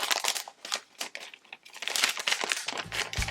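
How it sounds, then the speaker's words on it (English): Sheets of Watermelon Summer patterned paper crinkle and rustle as they are handled, in quick, close, irregular bursts of crisp crumpling with brief pauses. "So I'm going to pick out some Watermelon Summer paper sheets."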